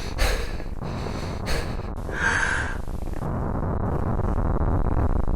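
Loud, close breathing of a character in an indie horror video game: a string of sharp gasps and snorting inhales, then a rising ambient rumble beneath.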